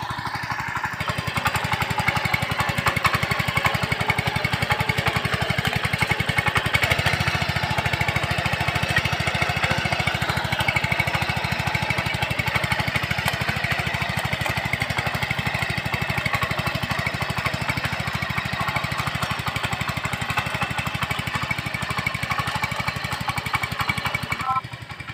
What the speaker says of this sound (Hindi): ये मिनी ट्रैक्टर है, इसमें है कि लौकियों की कुछ भी लगाए उसमें आराम से जोताई कर सकते हैं।